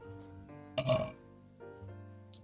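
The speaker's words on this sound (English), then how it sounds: "God, sorry, burp." A loud, drawn-out burp with a wet, gurgling middle, coming right after a voice says something and followed by a few more spoken words during a tabletop role-playing game session.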